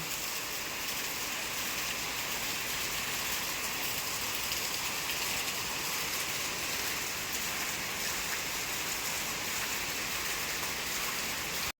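Rain pours steadily in an even, unbroken hiss, moderately loud and close, with no other sounds standing out.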